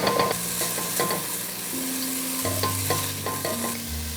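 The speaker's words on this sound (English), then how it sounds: "I'm just gonna use my vegetable broth to deglaze the pan when needed." Vegetable broth deglazes a hot pan of minced garlic for an oil-free vegan chick'n noodle soup, giving a steady close sizzle with repeated scraping and stirring strokes and no talk.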